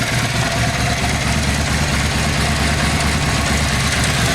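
A Yamaha XV 500 cafe racer's engine runs at a steady idle, loud and close, with an even low throbbing rumble and no change in pace.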